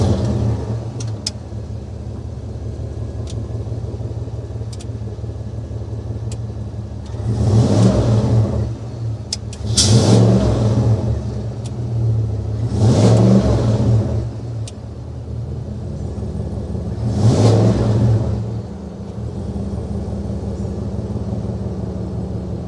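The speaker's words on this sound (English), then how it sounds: "start it up, give it some revs so you can hear that exhaust note" A 2023 Cadillac Escalade with a 6.2-liter V8 idles with a low rumble, then revs four times, each burst swelling and falling back to idle, with a deep exhaust note.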